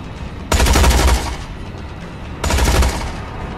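Two loud bursts of rapid automatic gunfire from the Tales from the Borderlands adventure game, each lasting under a second and spaced about two seconds apart.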